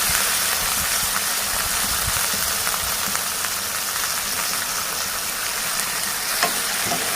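Cauliflower curry seasoned with salt is stirred in a frying pan, a constant hissing sizzle with scattered scraping knocks from the spoon, close and steady throughout.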